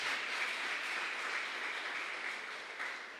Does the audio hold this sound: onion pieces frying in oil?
no